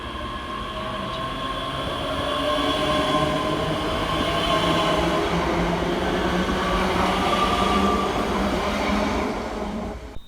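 Scotrail class 385 unit 385-015 pulls out of Paisley Gilmour Street station, a close, steady electric whine with rising tonal hum and rolling wheel noise that holds loud and even, ending with a sharp click.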